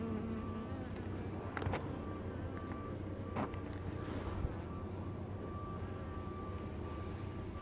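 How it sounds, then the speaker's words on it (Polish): Honeybees buzzing steadily around an open hive frame during a late-season hive inspection, a soft continuous drone with a few brief knocks and handling sounds. "Pszczoły mało na tej ramce."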